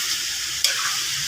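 Steady sizzling of chicken frying in a pan for Filipino tinola, with a single scrape of stirring partway through.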